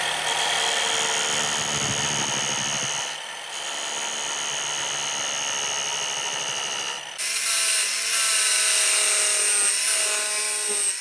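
A power saw fitted with a wooden blade grinds against metal, a loud, continuous whining drone with a harsh buzzing edge that shifts pitch midway and keeps running without a break.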